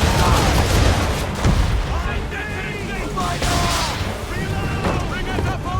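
Cannon broadside fired from a sailing ship during a naval battle in the Assassin's Creed III video game, a loud, dense barrage of booming blasts rolling over several seconds, mixed with crew shouts and battle noise.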